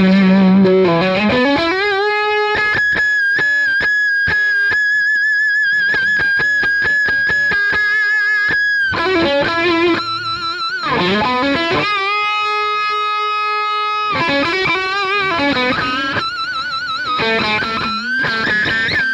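A distorted electric guitar through a Roger Mayer Voodoo Boost pedal with the gain cranked plays heavily overdriven chords and sustained bending notes, loud and gritty, with short pauses between phrases.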